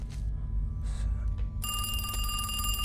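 A telephone bell rings loudly in a horror video game, its shrill ring breaking in suddenly after some low ambient rumble and faint background noise.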